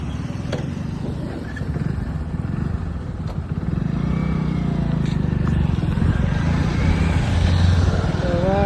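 A motorcycle engine rumbles steadily while riding, the low drone growing slightly louder and rougher toward the end.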